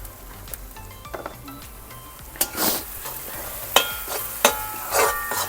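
Beef being stirred and fried in a pan with coriander powder, chilli powder, Kashmiri chilli, turmeric and garam masala: a steady close sizzle with a few sharp scrapes and clinks of a spoon against the pan.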